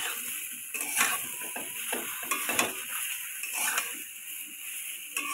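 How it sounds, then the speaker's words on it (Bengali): A spoon scrapes and stirs homemade jujube pickle in a pan, giving soft, irregular rasping strokes and light sizzling, close but fairly quiet. "এটাকে ভালো করে নাড়তে হবে"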